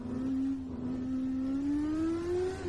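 Porsche RSR race car engine in a racing video game, a steady loud drone holding near constant pitch and slowly rising as it revs, continuous and close throughout.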